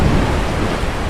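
A thunderstorm with heavy rain at sea in a video game story gives a loud, dense roar of rain and rumbling thunder, continuous and close for a brief moment, with no voices.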